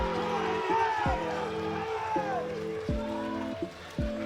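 A crowd roars and cheers at a powerlifting championship deadlift attempt, loud and sustained across the whole stretch, with a commentator's voice and steady tones running underneath.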